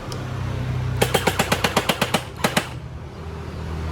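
An electric water gun fired with its water tank empty gives a rapid burst of about ten sharp mechanical clicks, a brief pause, then three more, close and loud over a quiet room.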